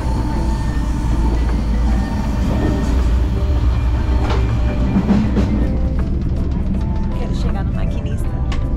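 Steady, loud rumble and rattle of a Vale passenger train rolling on its rails, heard from inside the carriage, with faint voices in the background throughout.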